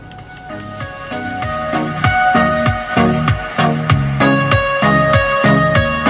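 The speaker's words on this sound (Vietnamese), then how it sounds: "Cảnh báo khi đi đường hẹp thì sẽ lên như thế này đây ạ." In reverse gear, a Mitsubishi Xpander's parking sensor gives a fast run of repeated electronic warning chimes. The bright pulses are clear and close, and the pace quickens partway through.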